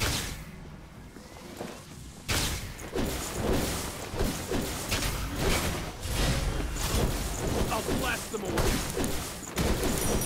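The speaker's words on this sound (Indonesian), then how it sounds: "Di situ suara tembakan." Gunfire in the battle royale game PUBG, rapid bursts of shots and impacts crackling through the clip at moderate distance, dense and continuous with thuds and swishes mixed in, with a voice talking over it.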